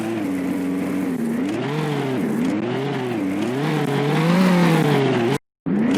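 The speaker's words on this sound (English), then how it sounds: "started the engine and drove off." A car engine revs loudly up and down close by as it pulls away, with a steady, wavering engine note that cuts off abruptly near the end.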